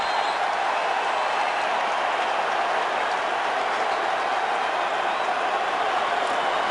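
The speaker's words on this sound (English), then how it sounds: "the huddle is begging this crowd to quiet down" Loud, continuous roar of a packed crowd in the Atlanta Falcons' football stadium during the 2010 NFL divisional playoff against the Packers, a dense steady wash of voices and noise with no breaks.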